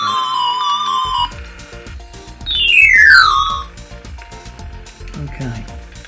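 Eerie electronic tones from the Vectrex homebrew game Revector: a warbling held tone gives way to a loud descending sweep, then scattered bleeps and rising chirps over low buzzing pulses.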